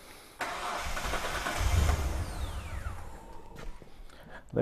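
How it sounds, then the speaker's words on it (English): A Hyundai Terracan with a misfire starts up: the starter cranks briefly, the engine catches and settles into a steady idle, heard close by. "Okay, I'll start the car"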